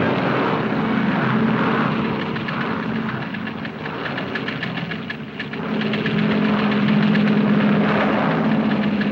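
A propeller airplane arriving at a Chicago stopover drones loudly and steadily close by, its engine hum swelling slightly near the end.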